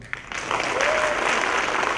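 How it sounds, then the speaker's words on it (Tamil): An audience at a Tamil film audio launch breaks into dense applause for Anirudh. The clapping starts sharply and holds steady and loud, with a faint voice underneath. "நம்ம வெயிட்டா அனிருத் ப்ரோக்கு சூப்பரா ஒரு கரகோஷம் கொடுங்க."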